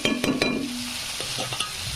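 Turmeric and red chilli powder are stirred in a sizzling pan for a cabbage curry, a steady close fry with several quick scraping taps of the spoon.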